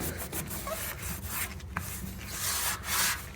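A cloth rubbing and wiping rust treatment off a metal gas locker in an engine bay, giving soft, continuous scrubbing strokes, close and fairly quiet.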